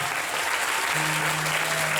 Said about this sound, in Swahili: Mpe Bwana makofi ya shukrani.